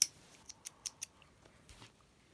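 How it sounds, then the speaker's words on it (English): Scissors snip off a strand of chunky yarn while knitting a hat. Four crisp, close cuts come in a quick even series, followed by fainter rustling in a quiet room. "I'm just going to pull my yarn up and snip this off"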